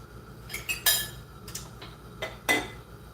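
A cutting board and knife are set down on a kitchen counter, giving a few sharp clinks and knocks at uneven intervals, with the louder thumps near the middle and end against a quiet room.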